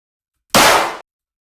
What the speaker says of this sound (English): This is just 2 claps.